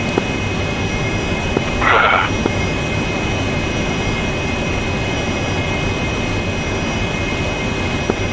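Jet aircraft engine roar in the DCS flight simulator during a 1983 Grenada invasion mission, a loud steady broadband rush holding throughout, with a brief brighter whine swelling near the two-second mark.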